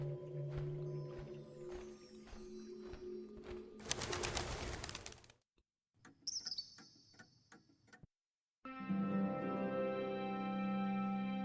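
A small bird in a black wicker cage in the Colossal Cave remake game, heard as tonal chirps and coos mixed with ticking game sounds. The sound breaks off into short silences and then returns as a steady tone.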